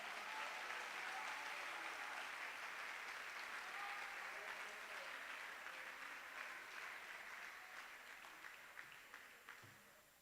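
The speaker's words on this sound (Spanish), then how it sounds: "Dale ese aplauso al Señor" Sustained applause from a church congregation during a sermon, a dense continuous wash of clapping that stays fairly loud before tapering slightly toward the end, with no voices over it.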